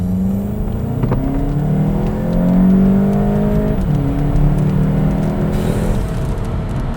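VW MK7 GTI fitted with an S&B cold air intake accelerates hard from a dead stop, engine tone climbing steadily through the gears with a brief shift dip, loud and close from inside the car.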